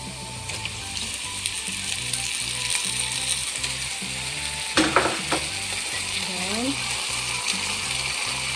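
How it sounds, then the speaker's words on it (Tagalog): Chicken wings fry in a pan for a honey garlic dish, giving a continuous close sizzle and crackle with a rhythmic mechanical ticking underneath, a few sharp clatters midway, and brief bits of talk. "We just fry this chicken side by side."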